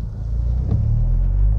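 A SEAT Leon Cupra engine fitted with a Revo induction kit gives a steady, close low rumble with a slight rise in revs partway through and no talk over it.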